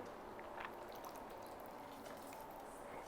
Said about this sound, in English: I'm gonna pour the wet ingredients into the dry ingredients